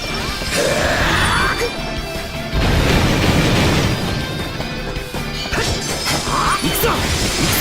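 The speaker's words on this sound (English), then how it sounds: "All weapons at maximum fire!" Weapons firing at maximum in an anime video game, loud crashing impacts, booms and whooshing blasts layered over game music, with a brief voice among the effects.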